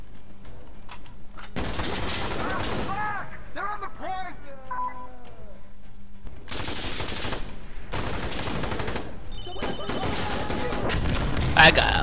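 Gunfire in a shooter video game crackles in several dense bursts of rapid shots, loud and close, separated by short gaps with electronic tones, while players talk over the action.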